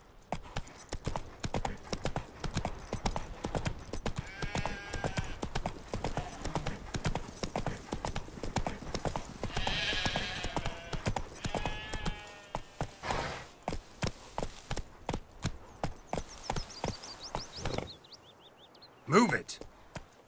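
Horse hooves clip-clopping at a fast gallop in the video game Witcher 3, a steady drumming rhythm throughout with a horse's whinny, a voice speaking over part of it, and game music in the background.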